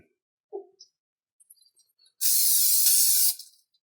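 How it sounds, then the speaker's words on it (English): Cooking spray hisses onto a baking pan in one steady burst of about a second, close and loud, after a few faint handling clicks. "We're just going to give it a light spray with some cooking spray."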